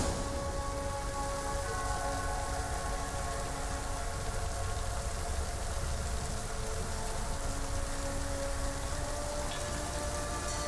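Steady rain pattering on a surface in the video game The Witcher 3, dense and even throughout, with no voices.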